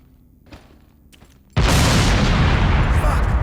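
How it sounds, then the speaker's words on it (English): Small explosions in the survival shooter game Beneath: after quiet ambience with a couple of faint knocks, a sudden loud blast erupts into sustained, roaring, close rumble to the end. "It likes these little explosions, doesn't it?"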